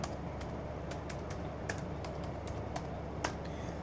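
Typing on a computer keyboard while adding a subtitle in Microsoft PowerPoint, a run of quick, light, irregular key clicks, close but quiet over a faint background hum, with no talking.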